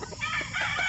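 A fighting rooster, a gamecock, crows once in a brief, fairly loud call heard close by, without voices.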